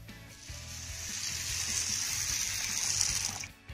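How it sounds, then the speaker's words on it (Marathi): Plenty of water is poured over rinsed sorghum (jowar) grains to soak them, a steady close gushing pour lasting about three seconds before it stops, with no talking. "आता यामध्ये आपल्याला भरपूर असं पाणी घालायचं आहे आणि ही ज्वारी 1 तासभर छान अशी भिजू द्यायची आहे"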